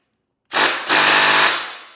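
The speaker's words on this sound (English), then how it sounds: "We'll see if we can get it out with the impact." An impact wrench hammers at a T55 bolt on a 2025 BMW S1000RR during a lowering link install: a short loud rattling burst, a split-second pause, then a longer hammering run that trails off.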